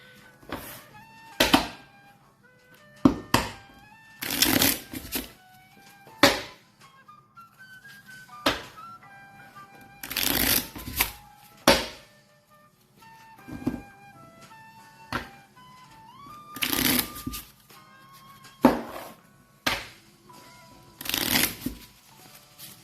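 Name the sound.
shuffling a deck of cards for the board game Habitats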